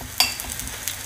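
Meatballs sizzle in a frying pan on a bed of parsley and onion, a soft continuous crackle with a sharp utensil clink near the start and another light tap later, heard close and alone.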